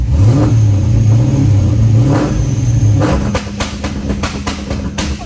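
A car engine with a two-step launch limiter roars loudly at full throttle, its pitch climbing and holding, then dropping off into a sputtering, popping idle.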